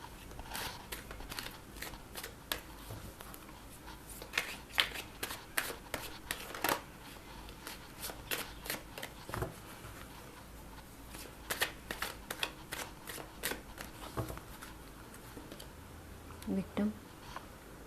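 A deck of tarot cards is shuffled in quick, crisp riffles and soft flicks, near and fairly quiet, in bursts with short gaps, while a voice murmurs at times.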